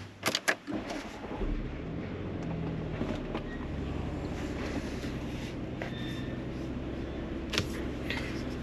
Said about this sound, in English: it's time to test drive this bad boy